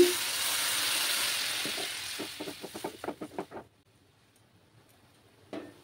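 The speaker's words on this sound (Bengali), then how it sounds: "আমি গরম জল দিচ্ছি।" Hot water poured into frying masala for a fish egg curry: a loud hissing rush dies down into a run of bubbling pops, then near silence, then one brief hiss at the end.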